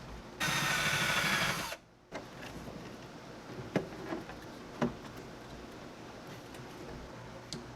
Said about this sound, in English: now what I'm going to do is drill out that spot right there